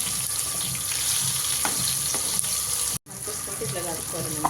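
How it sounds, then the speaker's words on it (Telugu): Fish pieces fry in a pan for Telugu-style fish curry, a continuous close sizzle with occasional stirring clinks and a brief cut partway through. "ఫిష్ అయితే మంచిగా ఫ్రై అయిపోతుంది చూస్తున్నారు కదా"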